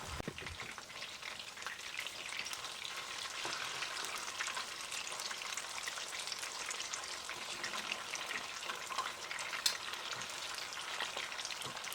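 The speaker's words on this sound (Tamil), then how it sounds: "ஒரு ஒரு சிக்கன் பீசஸையும் ஆட் பண்ணி ரெண்டு பக்கமும் லைட் கோல்டன் கலருக்கு வர்ற வரைக்கும் லோ ஃப்ளேம்லேயே வச்சு ஃப்ரை பண்ணுங்கள்" Chicken leg pieces fry in oil in a pan over a low flame, a steady dense sizzle and crackle running the whole time with a few sharper pops.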